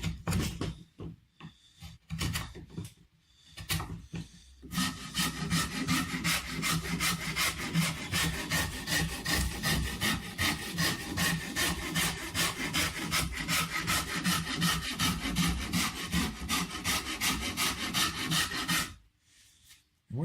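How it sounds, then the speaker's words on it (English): Shinto saw rasp shaping the wood of a guitar body for an extreme arm contour, a few tentative scrapes followed by a long run of steady, rhythmic rasping strokes, close and loud, ending abruptly. "I will go to the Shinto saw rasp"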